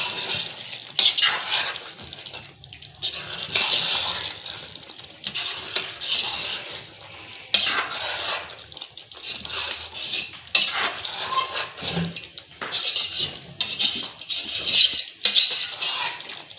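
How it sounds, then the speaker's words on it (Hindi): Meat curry with yogurt, potatoes and mutton for degi aloo gosht, sautéed in a pot: a spoon scrapes and clatters against metal in irregular bursts over a steady sizzle, close and loud, with no talking. "ये दही भी इसमें डाल के मैं इसको भूनूंगी। तो ये मैं इसको अच्छे से भूनूंगी"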